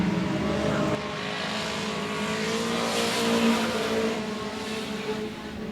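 Race cars roar out of turn 4 during a heat race at 105 Speedway, a loud continuous engine drone of several cars sweeping past with rising and falling pitch.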